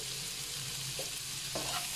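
Onions and green chili sauté in a pan with a little salt for chicken dum biryani, a soft, even sizzle with a couple of spatula scrapes, fairly quiet and without voices.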